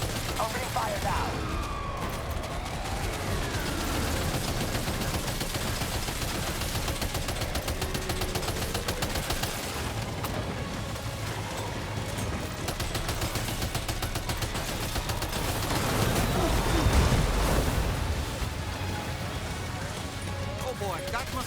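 Sustained gunfire in the Death Stranding 2 video game, continuous rattling shots and booms layered with whining mechanical tones and music, under spoken dialogue throughout.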